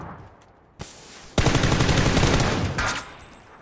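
Automatic gunfire in PUBG erupts after a quiet pause and a single sharp shot, a loud sustained burst of rapid rounds that rattles on for over two seconds before trailing off.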